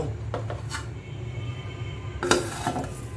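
Pan being covered with a lid while cooking a jhatka ilish and raw banana curry, a few soft knocks and then a sharp metallic clink as the lid settles, close and short with no talking.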